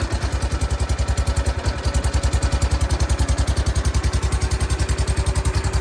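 A 1969 John Deere 140 garden tractor engine runs close and loud with a fast, even thumping idle beat that holds steady throughout, with no one talking.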